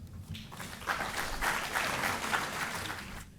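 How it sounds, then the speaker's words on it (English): An audience at an India-ASEAN event applauds a professor after his talk, with a burst of clapping that swells in the middle and fades out near the end, moderately loud in a room. "A big round of applause to the professor."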